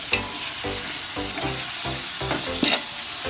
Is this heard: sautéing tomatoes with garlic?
yes